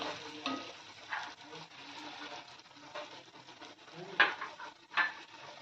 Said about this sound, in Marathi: आता ह्याच्यामध्ये मी हलद मीठ मिक्स करणार आहे